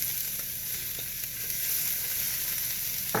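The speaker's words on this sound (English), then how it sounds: "Should be a nice sizzle." Peppers sizzling in a hot oiled skillet while cooking Maine lobster tail, a loud continuous frying hiss held evenly throughout with faint stirring clicks.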